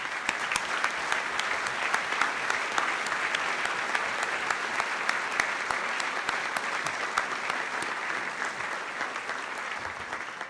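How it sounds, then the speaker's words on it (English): An awards banquet audience claps in a long, even round of applause, dense many-handed clapping that stays steady and slightly distant throughout. "I want you guys to give yourselves one final round of applause"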